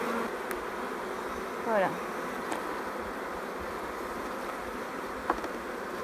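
Honeybees at an orphaned hive, one of many set on a rock, give off a continuous, even buzzing drone with a few louder passing insect hums; a voice briefly speaks a single word.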